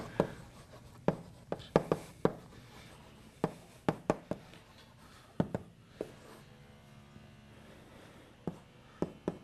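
Chalk taps and scrapes on a lecture-hall board as a lecturer writes during an MIT advanced data structures class, in irregular sharp strokes with short pauses between them.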